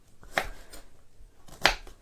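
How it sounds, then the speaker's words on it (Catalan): Kitchen knife chopping beetroot into small cubes on a board, two sharp distinct chops about a second apart with faint lighter taps between, close and clear with no speech. "la paciència és anar tallant la remolatxa en dauets"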